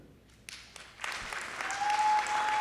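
An audience at a college convocation breaks into applause that begins with scattered claps and builds into steady, dense clapping filling the room.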